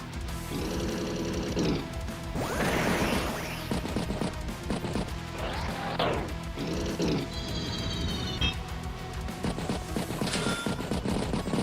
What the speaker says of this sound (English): Artillery does strike that anti-air